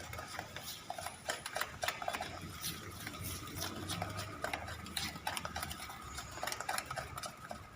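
Cocoa muffin batter being mixed by hand in a bowl, with steady soft scraping and light clinking strokes of a spoon against the sides, quiet and continuous with no talking.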